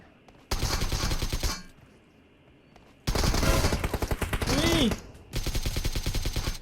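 Rapid automatic gunfire in PUBG Mobile arrives in three loud, close bursts, with short quieter gaps between them. Thai commentary runs over the shooting.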